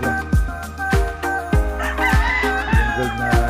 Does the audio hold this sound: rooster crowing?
yes